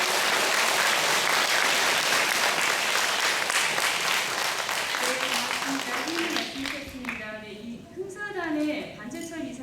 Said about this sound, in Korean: 박수 크게 한번 칩시다.